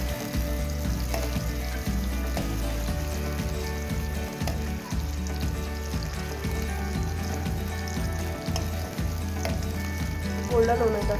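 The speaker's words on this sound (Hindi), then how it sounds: "देखिए प्याज यहाँ पर गोल्डन हो रहे हैं" Onions fry in a pan until golden while cooking daal maash, a steady close sizzle with repeated stirring scrapes throughout.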